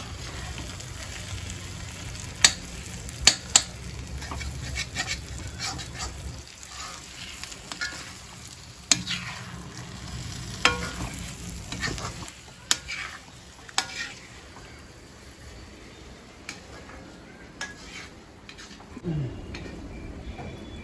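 Mutton brain sizzles as it fries in a pan with chopped coriander, a soft continuous crackle broken by occasional sharp scrapes and clinks of a spoon stirring against the metal.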